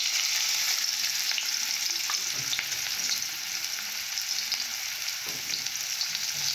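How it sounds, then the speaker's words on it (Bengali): Onions go into a hot kadai and fry in oil, a loud continuous hiss of sizzling with occasional stirring scrapes, close and steady throughout. "পেঁয়াজ দেব কড়াতে"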